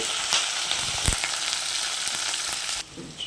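Onions frying hard in oil alongside dried red chillies, garlic and curry leaves for a Telugu chicken dish, a steady close, loud sizzle with a few sharper crackles, dropping off sharply near the end.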